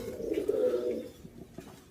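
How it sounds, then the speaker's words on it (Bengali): A green male racing pigeon gives a single soft, low coo from close by. It swells for about a second and then fades into faint rustling, with no other voices. "কবুতরটা অত্যন্ত ভালো একটি বাজির কবুতর।"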